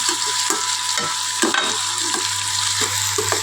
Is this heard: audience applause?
no